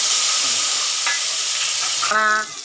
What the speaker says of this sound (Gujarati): હિંગ નાખીને આપણે આખા સૂકા મરચાં નાખીશું.